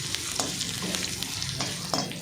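Curry leaves sizzle and crackle in hot oil while being stirred for a rambutan pickle, with a steady frying hiss and occasional louder pops and scrapes, no voices.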